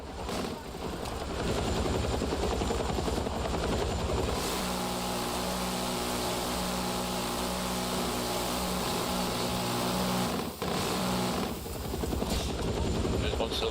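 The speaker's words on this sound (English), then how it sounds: "Almost got that chopper." Helicopter rotor and engine noise in a battlefield video game, a steady loud drone with low harmonic bands throughout, with gunfire-like bursts and voices talking over it.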